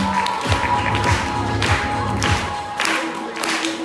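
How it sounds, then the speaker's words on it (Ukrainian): An audience claps at a children's charity concert in Turkey, a steady, moderately loud burst of applause with a few louder swells over a faint musical tone. "Оплески."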